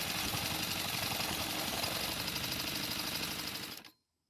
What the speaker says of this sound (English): we'll be using the drill to spin the engine over.